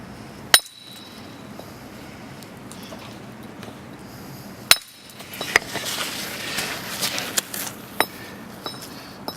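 A hammer striking a chisel against granite while building a stone wall outdoors, a few sharp isolated metallic clinks spaced seconds apart over faint ambient noise, with lighter chipping taps in between.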